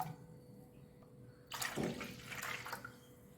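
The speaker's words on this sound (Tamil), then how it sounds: "இப்போது அந்த மிக்சி ஜார் கழுவி தண்ணியை சேர்த்துக்கலாம்" After a quiet moment, rinse water from a mixer jar is poured into rasam in a brief splashing gush that lasts over a second, then trickles away.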